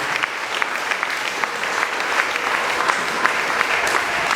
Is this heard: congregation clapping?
yes